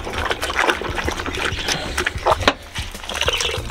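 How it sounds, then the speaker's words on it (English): Budgie cage parts are rinsed in water, with close splashing, trickling and sloshing that runs continuously and fairly loud for a few seconds. "so what we do is we rinse it in here"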